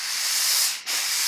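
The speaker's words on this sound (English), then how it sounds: "are you pushing something to make the iron steam?" A steam iron hisses out a loud, steady burst of steam, broken by a brief dip in the spray near the end before the hissing resumes at full strength.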